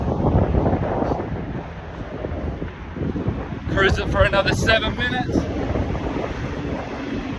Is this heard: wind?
yes